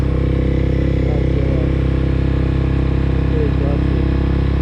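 A motorcycle engine drones steadily while riding, a loud continuous low hum with constant pitch throughout.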